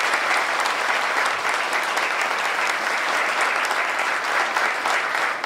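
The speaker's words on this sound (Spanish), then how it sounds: "El aplauso que se escuche, por favor, para Luis Bengoste." Sustained audience applause at a history lecture on Luperón given by historian Luis Bencosme, dense steady clapping from a large crowd that holds at an even level throughout with no voices on top.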